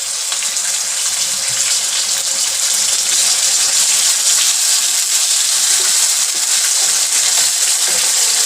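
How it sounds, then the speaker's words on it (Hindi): Water pours into a cooking pan while aloo palak sabzi is being made, a loud continuous gushing hiss held steady throughout with no voices. "थोड़ा सा पानी डालेंगे।"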